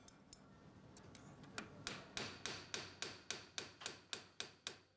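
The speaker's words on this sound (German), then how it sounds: "Und deshalb werden beide Scherenhälften mit einem Hammer bogenförmig krumm geschlagen." A metal hammer beats both halves of a pair of scissors into a curved shape, giving about a dozen sharp, ringing strikes. They start sparse and quiet, then fall into a steady, even rhythm that grows louder.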